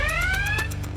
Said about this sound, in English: And there's the high water level alarm.